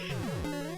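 A brief, buzzy robotic synthesized voice with gliding pitch, imitating a Speak & Spell's LPC10-encoded speech, short and fairly quiet.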